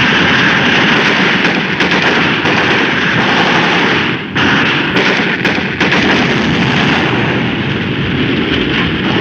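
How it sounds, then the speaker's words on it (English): Heavy gunfire and explosions rattle through a 1951 war film battle scene, dense, loud and continuous, with sharp bursts standing out against a constant roar. "Enemy machine gun."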